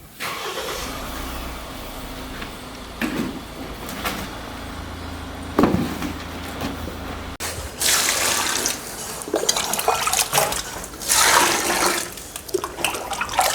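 Water splashes and pours in uneven bursts into cattle feed, growing louder and more turbulent in the second half, with a low steady hum beneath.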